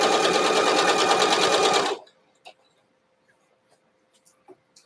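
A sewing machine stitches quilt patches for a nine-patch block, running in a loud, fast, steady mechanical whir for about two seconds before stopping, followed by faint scattered taps and handling noises.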